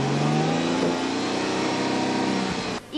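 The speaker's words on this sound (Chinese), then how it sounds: "引擎声浑厚有力" Deep, powerful engine of a black high-end luxury car revving and accelerating up close, a loud sustained roar that builds and then cuts off sharply near the end, with no talking.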